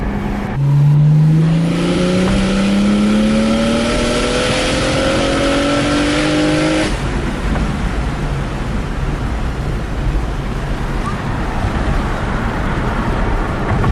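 A BMW 335i engine, fresh from an ignition upgrade, revs hard in third gear, its pitch climbing steadily for several seconds before the throttle lets off into a loud rushing road rumble.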